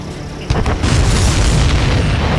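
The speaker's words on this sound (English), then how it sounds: "Did you see that explosion? Looks like that's one of them down." A supply ship blows up in the Ace Combat 7 combat flight game, with a heavy, close boom that hits suddenly and rolls on as a thick, sustained rumble.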